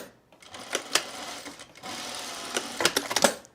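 A sewing machine hems the edge of a fabric piece in two short runs of stitching, its rapid mechanical whir starting, pausing briefly, then resuming, close up and fairly quiet with no talking.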